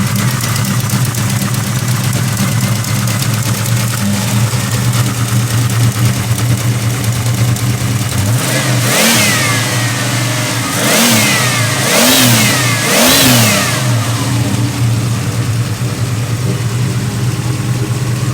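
A rebuilt 1986 Chevrolet Monte Carlo V8 runs loud and close at a rumbling idle, then is blipped in three sharp revs that rise and fall before settling back to idle, with no talking.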